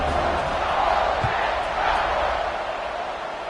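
A football stadium crowd at a Tennessee game roars in a continuous, loud wash of cheering with no pauses.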